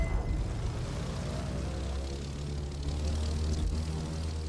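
A propeller airplane engine drones steadily during a barrel roll in The Crew 2 racing game, a constant buzzing hum with a low rumble beneath, holding even and fairly quiet throughout without any voices.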